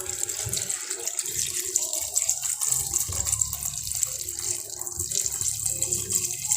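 Water poured into a cooking pot while preparing a Moroccan lamb trotters dish, a steady splashing stream running for several seconds without speech.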